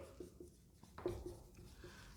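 Faint scratchy strokes of writing on a board, a few short bursts spread across a quiet room with a low background hum.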